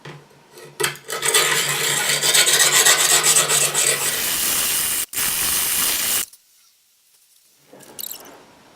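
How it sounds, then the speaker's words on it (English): A knife blade is worked hard against the coarse side of a whetstone, making a steady, close, gritty rasping scrape for about five seconds that stops abruptly, followed by near silence and a faint scuff. "I've been using the very coarse side of the stone, and I've been really putting a lot of pressure and a lot of effort into just one side of the blade"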